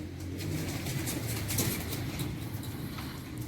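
Pigeons in a fancier's loft coo steadily at close range, with low throaty murmurs layered over a busy background of wing rustles and faint bird chatter.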